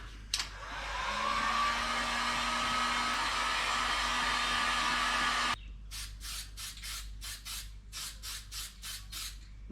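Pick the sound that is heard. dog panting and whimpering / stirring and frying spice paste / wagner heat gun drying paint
wagner heat gun drying paint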